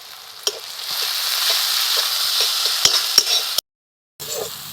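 Chopped tomatoes and green chilies fry in a pan with a steady, close sizzle and a few sharp crackles and pops, briefly cutting out near the end before resuming.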